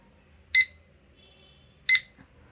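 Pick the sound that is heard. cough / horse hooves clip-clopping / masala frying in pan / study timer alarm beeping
study timer alarm beeping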